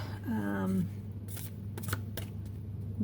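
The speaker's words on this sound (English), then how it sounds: "give the deck another shuffle" A deck of cards riffled and shuffled up close, a quick flurry of papery flutters and taps, with a steady low hum underneath.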